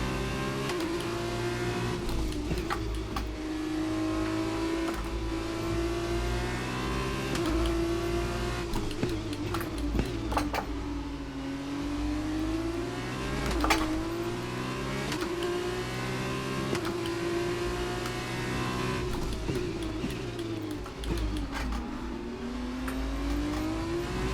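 Racing engine of a Formula 2 car in the F1 2020 game, loud and sustained, climbing through gears with regular abrupt upshift dips and brief rough bursts, constant and up close.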